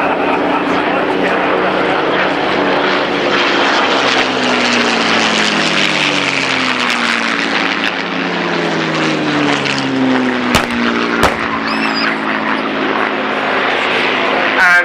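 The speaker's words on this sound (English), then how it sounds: "here goes the Luftwaffe to respond to Messerschmitt Bf 109s, played here by Hispano Bouchons." Hispano Buchón fighters standing in for Messerschmitt Bf 109s at the Shoreham Airshow, a loud sustained piston-engine roar with shifting propeller drone as the formation passes, steady throughout with a couple of sharp clicks near the end.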